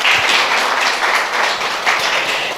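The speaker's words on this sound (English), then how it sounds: "Round of applause." Steady applause from a crowd, a dense wash of clapping that holds at an even level throughout with no voices over it.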